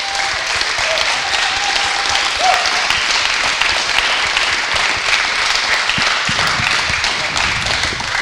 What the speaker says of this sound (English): So if I can get a big round of applause for Chris and James.